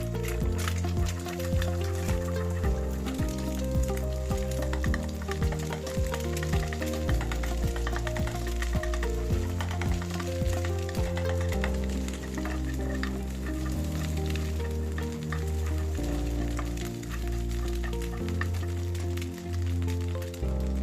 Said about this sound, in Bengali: অপর সাইডে একটা ডিমকে স্ক্রাম্বল করে নিচ্ছি।